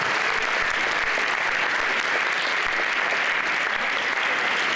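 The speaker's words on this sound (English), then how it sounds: "let's give your panel a round of applause" A round of applause for a school panel: dense, continuous clapping from a large audience, even and loud from start to finish with no gaps.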